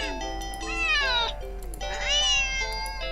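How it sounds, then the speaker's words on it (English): A cat lets out two long, sharp meows in quick succession, each rising and bending in pitch, close and loud over a low steady hum. "the cat meows sharply at you"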